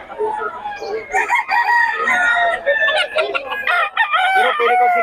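A rooster crows repeatedly at close range at a market, its loud calls overlapping with clucking and other fowl noises throughout.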